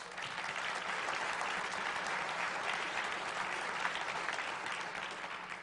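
Audience at a State of the County address giving a legislator a round of applause, a dense, even wash of clapping sustained throughout at moderate distance.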